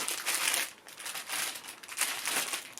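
Plastic packaging crinkling and rustling close by in bursts, loud crackly handling with short lulls between, no talking.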